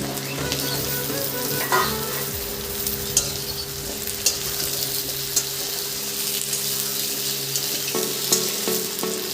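Potatoes dropped into hot oil with lightly browned onions in a pan, a loud continuous sizzle and frying hiss close by, with a few stirring scrapes and no speech.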